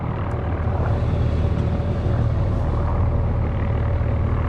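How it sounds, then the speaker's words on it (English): A helicopter's steady, rumbling drone holds constant throughout, as if hovering some distance away, with no talking. "That chopper's still hovering here. I can hear him."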